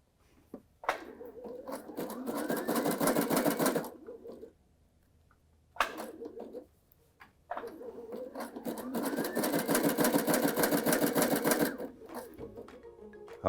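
A Baby Lock Sashiko sewing machine stitching with a lengthened stitch, two long bursts of steady rapid mechanical chatter close by, separated by a short pause with brief start-stop runs.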